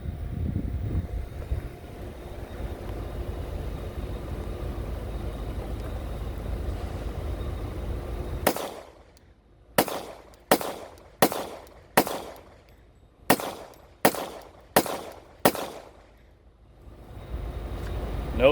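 Nine sharp, loud gunshots from a Glock fitted with a Guncrafter .50 GI conversion slide, fired outdoors at a steady pace with short gaps, preceded by several seconds of low rumbling wind or background noise.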